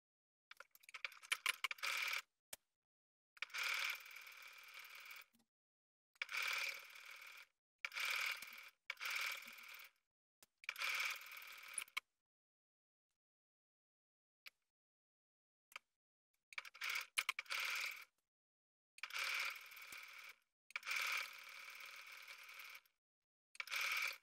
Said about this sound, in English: I've just finished sewing my front and back pieces together at the shoulders.